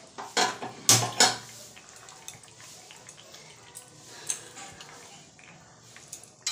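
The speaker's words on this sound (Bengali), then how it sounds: "ভাতটাও বসিয়ে দিলাম।" A pot of washed rice is set down on a gas stove, with a sharp metallic clank and a couple of quick knocks near the start, then soft scattered kitchen clinks and a low steady burner hiss.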